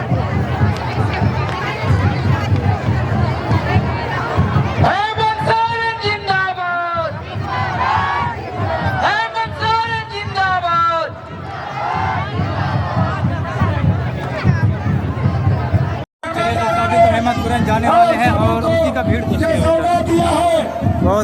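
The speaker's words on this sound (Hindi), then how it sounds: "बहुत खतरनाक भीड़ है।" Big outdoor crowd pressing near a helicopter at Chief Minister Hemant Soren's rally in Murhu, Jharkhand, a loud steady hubbub of many voices and cries, with occasional closer shouts rising above the din.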